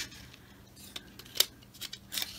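Scissors snip the thread end off a handmade Christmas tassel, producing a few sharp close crisp cuts, the loudest in the middle, with light handling rustle between them.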